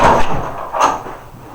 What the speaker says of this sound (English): And I'm going to open up the door.